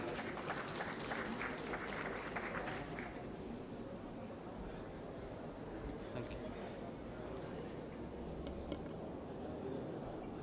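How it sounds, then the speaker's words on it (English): An audience at an international agricultural investment conference applauds steadily for about ten seconds, a dense, even clatter of many hands clapping, moderately loud and sustained. "A round of applause, please."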